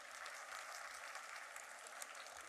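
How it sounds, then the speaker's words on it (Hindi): Faint, distant applause from the audience at a school annual function, a steady wash of many hands clapping with no voices over it. "एक बार आप अपने स्वयं के लिए भी तालियां बजाइए।"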